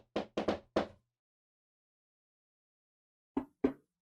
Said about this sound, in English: you suddenly hear a light knocking on the door.